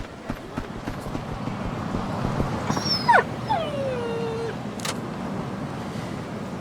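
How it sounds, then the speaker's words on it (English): A dog in the Yakuza 5 video game yelps and whimpers in a few short, rising and falling cries over a continuous low outdoor background rumble, with no talking. "Was that a dog?"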